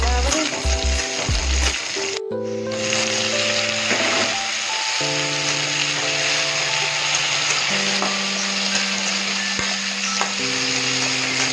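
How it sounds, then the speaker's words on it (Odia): Chili and onion frying in a pan, a steady close sizzle with occasional scraping stirs and a brief knock early on, no voices. "ଲଙ୍କାଟେ ପକେଇଦେଲି ପିଆଜ"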